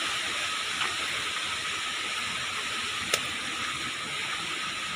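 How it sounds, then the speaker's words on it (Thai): Water runs down a mountainside beside a wet forest trail toward Krok E-Dok waterfall, giving a steady, even rushing hiss with no breaks and one brief faint click. "น้ำไหลลงมาจากเขา"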